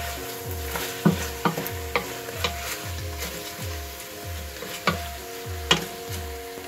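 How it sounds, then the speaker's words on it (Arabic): Chicken wings sizzling and browning in a pan, a steady close frying hiss broken by sharp utensil clicks and scrapes, with a regular background thumping pulse. "دوك الجنحان ديال الدجاج، نديرهم شويه مليحه هكا، ونخليهم يتحمروا هنايا."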